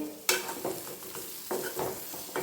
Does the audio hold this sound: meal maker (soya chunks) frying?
yes